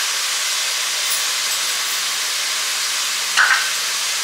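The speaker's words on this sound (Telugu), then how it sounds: "ఇది కూడా పచ్చివాసన పోయే వరకు వేయించుకోవడం" Ginger garlic paste frying in a pan for pulasa fish curry, a steady close hiss of sizzling oil throughout with a brief clink near the end.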